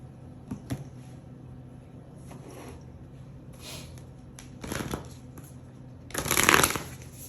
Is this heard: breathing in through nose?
no